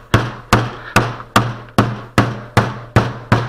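Old window putty is beaten in a row of eight sharp, evenly spaced thumps while it is folded, each hit loud and close with a short ringing decay.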